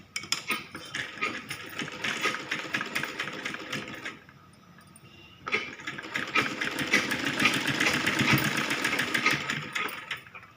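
Sewing machine stitching a blouse front and its lining, bursts of fast rhythmic needle chatter, close and clear, with a brief pause before the stitching resumes longer.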